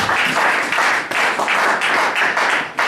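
A church congregation applauding the Lord, loud sustained clapping from many hands with rhythmic surges, close and filling the space.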